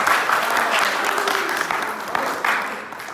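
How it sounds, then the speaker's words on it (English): A group applauds a winner in a classroom or group setting, with dense, continuous clapping that stays fairly loud and even across the short stretch, a few sharper claps standing out near the end. "Round of applause to her."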